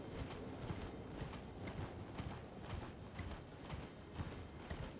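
Horse hooves clip-clop steadily in a video game, a close, continuous rhythmic trotting over the ground with no talking.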